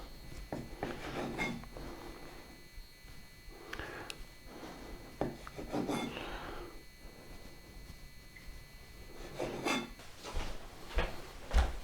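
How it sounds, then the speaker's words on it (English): A knife trims the crusts off slices of bread, several faint soft scraping strokes and light taps spaced irregularly in a quiet room, with no talk. "I'm going to take the crust off because crust does not make for a good paste"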